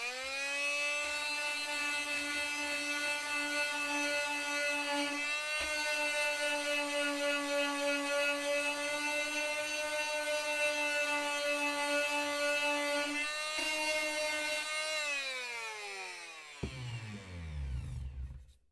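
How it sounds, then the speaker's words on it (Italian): A corded oscillating multi-tool runs steadily while sanding, a loud sustained high whine with a brief dip partway through, winding down and cutting off at the end. "Adesso proviamo a levigare anche con il modello a corrente elettrica."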